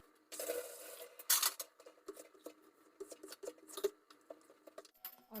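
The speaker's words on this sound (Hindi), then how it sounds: "तो मैं थोड़े थोड़े बर्तन भी धो लेती हूँ।" Dishes being washed at a home kitchen sink, with irregular clinks and clatters of utensils and pots alongside bursts of running water, close and fairly quiet, with no talking.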